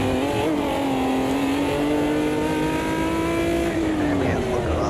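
A race car in Automobilista 2 accelerates hard, its engine note climbing steadily and loudly through the revs over continuous tyre and road noise, with faint talk underneath.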